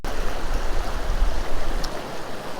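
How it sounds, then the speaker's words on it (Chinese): A swift mountain stream rushes past in dense broadband roar, steady and close, with low rumbling surges and no voices over it. "只是这边溪水看起来要更湍急一点"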